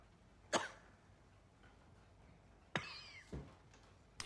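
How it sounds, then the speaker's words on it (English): A man in a Chernobyl drama episode coughs in a few short, sharp bursts: one early cough, then a pair close together, standing out against a quiet background. "His own coughing."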